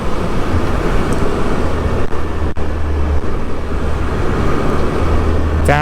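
A 2021 Triumph Speed Triple RS motorcycle rides at steady speed, its engine and wind roar forming a dense, continuous loud drone with a brief dip where a gear shift occurs.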